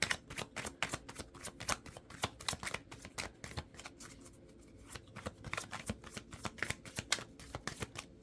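Tarot cards are shuffled by hand in rapid, repeated riffling bursts, close and crisp, with short pauses between runs and no talking.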